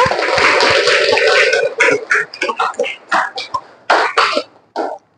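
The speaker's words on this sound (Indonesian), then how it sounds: "Aplaus untuk kelompok 1." Classroom applause for a student group, a steady wash of clapping from many pupils that breaks into scattered uneven claps and trails off.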